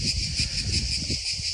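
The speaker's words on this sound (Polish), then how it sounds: "i cykady, które cykają" A dense, continuous chorus of buzzing cicadas on a hot day in Croatia fills the air, steady and fairly loud, with low rustling underneath and no talking.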